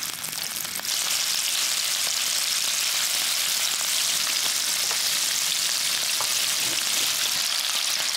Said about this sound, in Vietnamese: Cho vào chảo một ít dầu rồi mình chiên ở lửa nhỏ vừa.